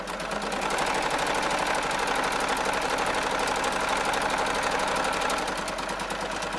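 A sewing machine runs continuously while stitching a fitted fabric face mask, giving a loud, rapid, even mechanical whir with a fast repeating needle rhythm that eases off slightly near the end.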